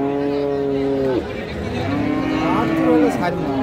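Cattle at a calf market low in long drawn moos, two sustained calls one after another over a busy crowd murmur.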